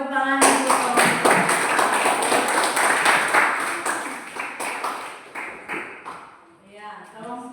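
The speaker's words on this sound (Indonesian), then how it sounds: "kita kasih tepuk tangan untuk kelompok." A classroom of students claps for a student group, producing a dense patter of hand claps that fades over several seconds, with a voice speaking briefly before and after.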